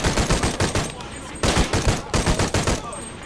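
Rapid bursts of automatic gunfire in Shadow of the Tomb Raider, loud and close, firing in several quick clusters with brief pauses between them.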